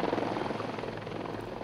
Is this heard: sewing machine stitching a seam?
no